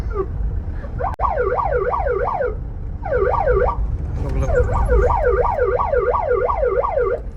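A wailing two-tone siren rising and falling rapidly in repeated bursts, loud and close, pausing twice before continuing steadily.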